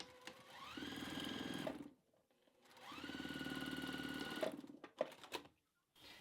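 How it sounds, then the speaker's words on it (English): Close and clear, a sewing machine stitches the opening of a patchwork oven mitt closed in two runs, each spinning up with a rising whine before a short pause, ending with a few clicks. "So I'll just do a quick sew right here, 1/8 of an inch in from the seam allowance."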